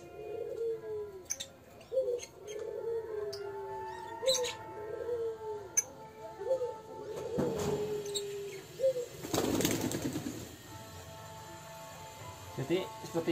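Soft, repeated cooing of racing and old-style homing pigeons in a steady rhythm, followed by bursts of broadband fluttering like wings flapping, with a voice talking in the background.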